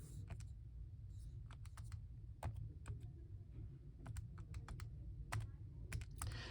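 Rapid, irregular clicks of fingers pressing keys on a graphing calculator's keypad, close and fairly crisp, over a steady low background hum.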